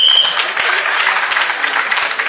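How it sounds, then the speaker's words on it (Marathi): Audience applause in a theatre during a Malvani stage play in Malvan, a dense, steady clatter of many hands after a brief high tone at the start. "हे टाळ्या मारूक ना"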